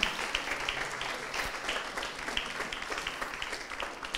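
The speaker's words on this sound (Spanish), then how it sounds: "¿Cuántos aplauden en el nombre de Jesús?" Church congregation claps together in a sustained round of applause, individual hand claps crackling through a full, even roar at moderate distance.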